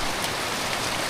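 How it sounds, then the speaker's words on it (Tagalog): Heavy typhoon rain pouring steadily at a house, a dense, loud, unbroken hiss of water with no pauses and no voices. "Ulan na."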